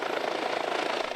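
An air ambulance helicopter in Hawaii makes a steady, loud rotor thump with a broad engine roar, heard throughout with no talking.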